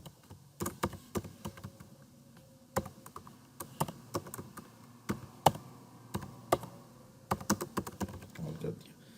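Typing on a computer keyboard, irregular bursts of sharp close keystrokes and clicks spread across several seconds, with a faint low background hum.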